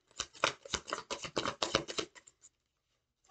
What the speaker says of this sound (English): I just want to say while I'm shuffling out